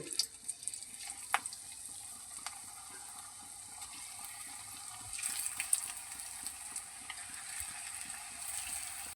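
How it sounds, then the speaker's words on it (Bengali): Banana stem pakora with cornflour batter frying in hot soybean oil, giving a steady soft sizzle and hiss with scattered crackles and pops, close up and alone with no talk. "তেল আমার গরম হয়েছে, এবার আমি ভেজে নেব"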